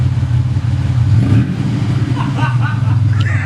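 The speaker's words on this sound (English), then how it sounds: "Go rev it. Why does it sound like that? Go rev it." A Pontiac Grand Am engine rumbles loudly and close through a new exhaust, holding a deep, steady drone with a slight rise. Voices talk over it.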